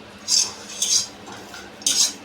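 Three sharp metallic scrapes of a utensil against a hot pan while roasting coconut, spaced irregularly, close and fairly loud over quiet background.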